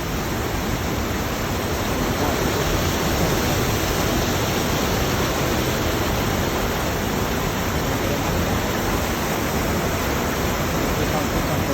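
Water pouring over an overflow weir at Ban Tao Ngoi in Tao Ngoi district, a loud, steady, close roar of rushing water that continues unbroken throughout.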